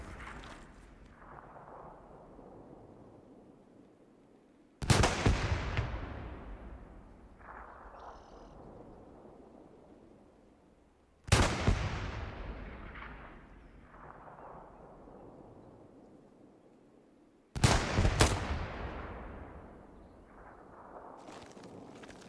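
Heavy artillery in the World War II online shooter Hell Let Loose, three huge booming blasts spaced several seconds apart, each rolling off into a long decaying rumble, with fainter distant shots in between.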